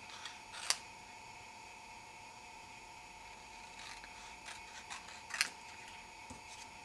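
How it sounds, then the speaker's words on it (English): Paper snips slice through cardstock in a quiet room, with a few sharp, crisp snips spaced seconds apart over a faint steady hum and a soft rustle in between. "I am going to just cut along these edges with my paper snips"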